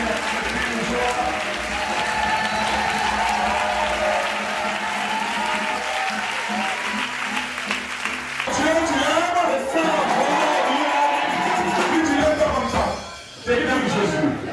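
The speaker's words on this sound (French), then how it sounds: "Acclamez plus fort" A church congregation applauding and cheering in worship, with steady loud clapping throughout and a voice speaking and singing over it. The crowd swells further partway through.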